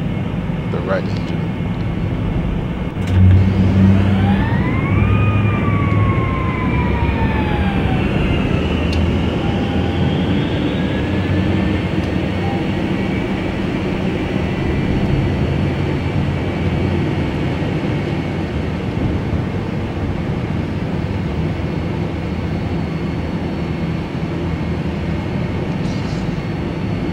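Boeing 757 right engine starting in the FSX flight simulator: a rising whine climbs and bends upward over several seconds above a continuous low engine rumble that carries on steadily to the end.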